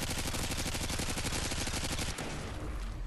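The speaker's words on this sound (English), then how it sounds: "Basically sprayed my entire clip because it seems like I was missing a lot of bullets." An ACR rifle in Modern Warfare 2 sprays a full magazine as one long, rapid, unbroken stream of loud automatic shots that stops abruptly, followed by a short tail of noise.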